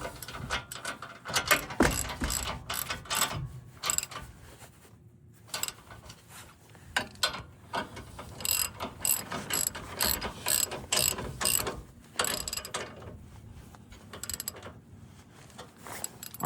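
A hand ratchet tightens a crash bar bolt on a 3rd Gen Toyota 4Runner, with rapid bursts of close, crisp metallic clicking in repeated strokes separated by short pauses.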